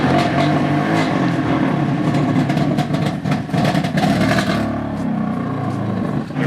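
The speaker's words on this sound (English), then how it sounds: "See how the start sounds now." A BMW F80 M3 engine starts and settles into a steady idle, loud and close, with a continuous throaty rumble and no one speaking.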